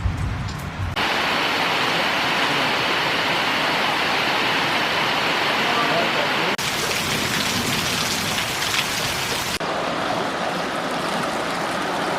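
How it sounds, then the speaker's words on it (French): Steady, loud rain pours down without a break, a dense hiss of drops on surfaces; no voices. "il pleut et ça fait du bien"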